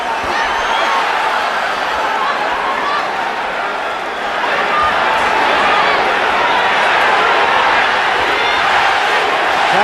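A boxing arena crowd at a Pacquiao versus Morales fight roars steadily, a dense wash of cheering and rhythmic chanting that swells slightly midway and stays loud throughout.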